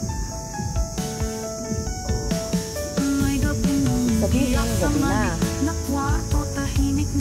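Crickets chirp at night on a former forest trail toward Mount Carmel Church in Taipa, Macau, a busy layered chorus of trills and pulsing tones under a brief spoken line.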